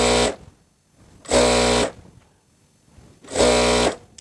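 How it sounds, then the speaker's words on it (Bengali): A sewing machine stitches a skirt seam in three loud, close bursts of rapid whirring, each about half a second to a second long, separated by pauses. "এখন আমরা একদম নিচ পর্যন্ত সেলাইটা নিয়ে যাব।"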